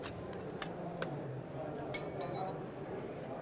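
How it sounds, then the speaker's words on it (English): A strip of scored aluminum flashing is snapped free by hand, giving a few faint, sharp metallic clicks and cracks spread over a few seconds against a quiet room background. "And then I can snap it free. Aluminum lends itself to this."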